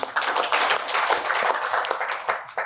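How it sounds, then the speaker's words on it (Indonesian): Audience applause at a church seminar in Bandung, a dense burst of clapping close and fairly loud, tapering off toward the end. "Tepuk tangan untuk Tuhan Yesus."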